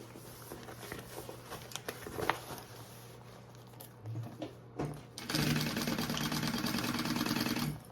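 A sewing machine stitches the boxed corners of a fabric travel tote at a wide seam allowance, with a quiet start of short bursts followed by a louder steady run of the needle near the end.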